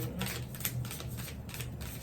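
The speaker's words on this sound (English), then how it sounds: "We're gonna be shuffling, okay? Like, these cards." Tarot cards shuffled by hand, giving a faint, steady papery riffling with soft rhythmic flutters and no talk over it.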